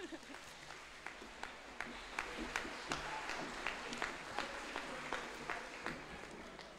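An audience at a school information night claps in a steady round of applause, with individual sharp claps standing out over a soft, distant-sounding room.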